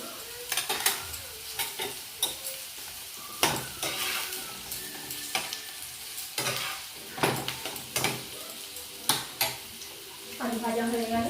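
Potatoes frying in a pan for soybean curry, a low sizzle broken by repeated sharp scrapes and clinks of a spatula against the pan, with a voice briefly at the end.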